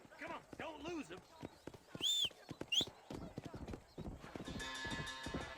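Horse hooves clip-clopping at speed in the video game Red Dead Redemption, a rapid rhythmic drumming with a couple of neighs and whinnies, heard under a man's speech and game music.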